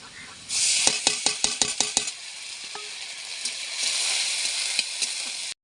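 Broadband sizzling as ginger garlic paste hits hot oil in a pan, with a burst of sharp clicking spatters early on, then a steady frying hiss continuing alone.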